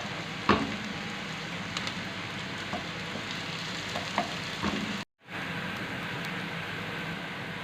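Onion and garlic fry in a pan as beef simmers in tomato sauce, giving a steady close sizzle with a few light clinks and stirs, briefly cut off near the end.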